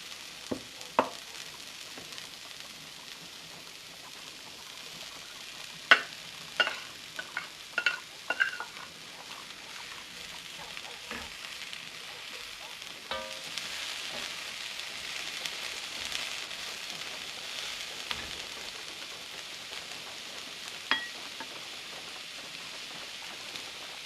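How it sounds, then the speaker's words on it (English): Vegetables for a chicken vegetable tortellini dish sizzle in a pan, a steady soft hiss with scattered clicks and scrapes from stirring, fairly quiet and without talk. "hear them sizzle"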